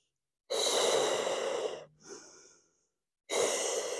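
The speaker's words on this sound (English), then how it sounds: "Inhale, exhale, inhale, exhale, lower." Close, audible breathing during a pilates exercise: a long forceful exhale, a short sigh-like breath, a silent pause, then another strong exhale.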